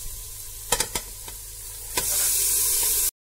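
Sprouted matki tipped into hot oil and cooked masala, a few sharp clanks from the spoon and pan, then a loud, steady sizzle that rises and holds before cutting off.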